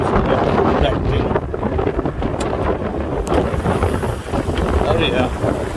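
Strong wind buffets the microphone at an outdoor dealer car auction beside a 2011 Mercedes-Benz C300 Sport, a loud continuous roaring rumble with someone talking through it.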